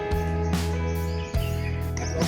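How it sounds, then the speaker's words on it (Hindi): Morning bird chirps sound over a steady, tonal hum, a few bright calls repeating near the mic with no voices, after rain. "इतनी प्यारी चिड़ियों की आवाज़ आ रही है।"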